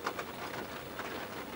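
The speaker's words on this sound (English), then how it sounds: "it was pouring with rain when I shot this part of the video" Heavy rain pours outside as a constant, dense hiss, with a few faint chirps and no pauses.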